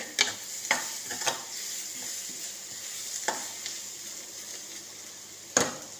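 Ivy gourd (dondakaya) stir-frying in oil, a steady soft sizzle punctuated by a few sharp scrapes and clinks of a spatula against the pan at irregular intervals, close and moderately quiet.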